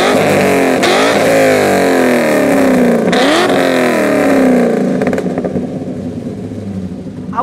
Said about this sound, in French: tu nous remets quelques petits coups de rupteur qu'on entende ça